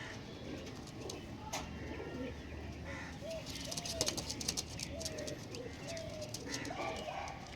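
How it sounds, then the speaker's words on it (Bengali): Female pigeons of a Star Kalka Andra Lambari breed coo softly and intermittently over a faint, noisy background of a loft, with scattered light chirps. "আর হচ্ছে এই একটা মাদা পায়রা"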